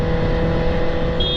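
A Yamaha R15 version 3 motorcycle cruises on a highway with a steady, droning engine hum and rushing wind, continuous and close, with no speech.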